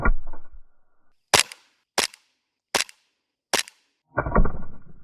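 Four sharp, loud shots from a small Sand Viper airsoft pistol hitting a bag crack out at roughly even intervals, with brief talking or handling noise before and after.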